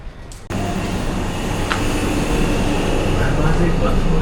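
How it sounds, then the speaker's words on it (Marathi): A Delhi metro train pulls into the platform. A loud, steady rumble and whine builds suddenly after a short quieter moment and then holds strong to the end, with a brief high squeal partway through. "सराय काले खां को जाने वाली ट्रेन प्लेटफॉर्म नंबर 2 पर आ रही है"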